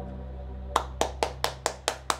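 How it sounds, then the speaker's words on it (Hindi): Seven crisp hand claps ring out close by in an even, steady rhythm near a sound level meter, over a faint constant low hum. "देखो क्लैपिंग से भी मतलब चेंज हो रहा है आवाज़"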